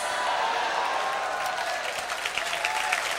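A church congregation at a ministry training graduation service applauds, steady hall-filling clapping from a large crowd that continues throughout, slightly sharper claps near the end.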